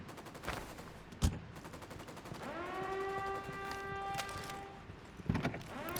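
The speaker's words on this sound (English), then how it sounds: "Opening fire on these fuckers." Gunfire in Ghost Recon: Wildlands: scattered sharp shots crack at intervals against a low background, with a rising whine-like tone in the middle and a cluster of louder bursts toward the end.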